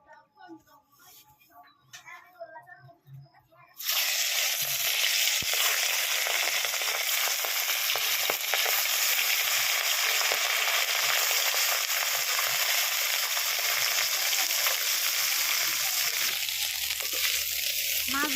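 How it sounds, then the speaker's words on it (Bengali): Small mourala fish fry in hot oil in a kitchen, a loud continuous sizzle that starts abruptly and holds steady with occasional stirring clicks. A brief voice comes before it. "মাছগুলো ভাজা হয়ে গেছে এবার নামিয়ে নেব"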